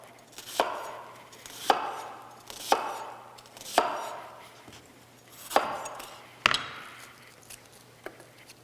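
A knife chops through red onion on a cutting board for a Korean cucumber salad, six sharp, evenly spaced chops, close and fairly loud, with a quiet steady hum underneath.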